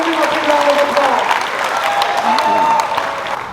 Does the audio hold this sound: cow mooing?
no